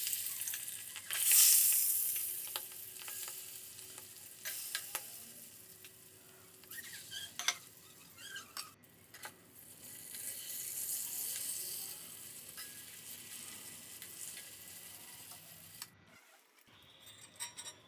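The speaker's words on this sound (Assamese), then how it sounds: "তেল দিয়াৰ পিছতে ইয়াত মই মাছ কেইপিচ দি দিলোঁ।" Pieces of fish hit hot oil in a wok with a loud burst of sizzling, then keep frying with a steady crackling hiss.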